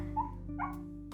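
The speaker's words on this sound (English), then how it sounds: "that is my dog having a dream" A dog whimpers in its sleep while dreaming indoors, two soft high whines close by and fairly faint, over a steady low electrical hum.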